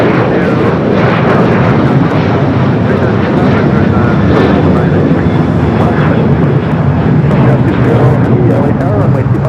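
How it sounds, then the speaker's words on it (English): A 28-year-old Boeing 767 jet arriving at LAX from JFK, its loud continuous engine roar dominating throughout while radio chatter and talk are heard under it. "This flight coming in from JFK, flight 713, a 28-year-old 767"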